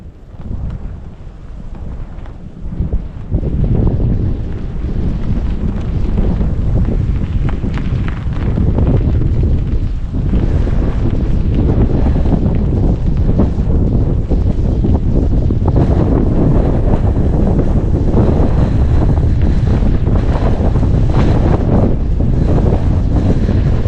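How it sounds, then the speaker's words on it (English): Strong, insanely gusty wind roars and buffets steadily outdoors in winter around a wind turbine and a flagpole, with loud continuous microphone wind noise that builds after the first few seconds and never lets up. "Guys, it's like insanely windy. Great for the wind turbine, but watch the flagpole here"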